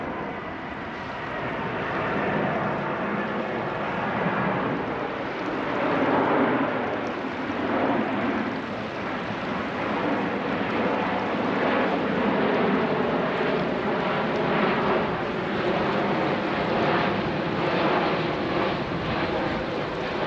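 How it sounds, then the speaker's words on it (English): A large cargo jet passes overhead, a broad, rushing roar with a wavering, slightly pulsing character that stays loud and steady for about twenty seconds, mixed with outdoor wind noise and no talk. "I think a cargo jet."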